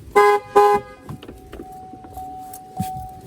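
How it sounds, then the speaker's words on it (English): A Chevrolet Cruze LTZ horn honks twice in quick succession after a tire pressure sensor relearn, short loud toots up close, followed by a faint steady tone and quiet clicks. "After it learns everything, it'll honk twice, and you're good."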